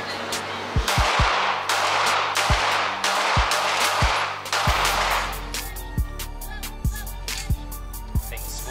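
Staccato single-stack pistol fired at a range, sharp loud shots in an irregular series of about a dozen rounds, some quick pairs, each ringing out briefly.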